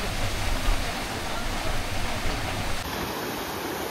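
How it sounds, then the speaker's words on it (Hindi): Broad, steady rush of water pouring from a partly frozen waterfall beside the Spiti highway (NH-505 toward Kaza), a dense continuous roar with no voices, its upper hiss dropping out slightly near the end. "सामने से पानी का बहाव देखिए कैसा आ रहा है"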